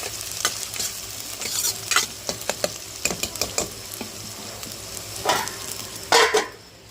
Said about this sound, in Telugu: అల్లం వెల్లుల్లి పేస్ట్ వేసుకొని పచ్చివాసన దాకా అయితే బాగా అయితే ఫ్రై చేసేసుకోవాలి